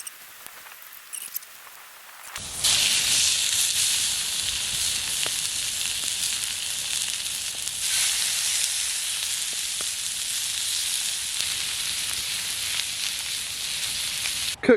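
Steak sizzles loudly and steadily in a pan at a camp in the Scottish Highlands, a close, continuous hiss and crackle that begins abruptly after a short quiet start and runs without talk.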